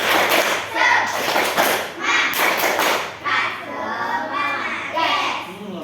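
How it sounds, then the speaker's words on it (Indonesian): A group of people does the rhythmic Indonesian 'tepuk semangat' spirit clap, several bursts of patterned handclaps and slaps in quick succession, close and lively, mixed with voices. "Tepuk semangat."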